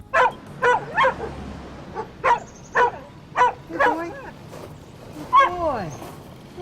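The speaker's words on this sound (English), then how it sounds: "that's a chained dog" A chained dog at a rural residence barks in a series of sharp, close barks at a steady rhythm, with whines mixed in toward the end.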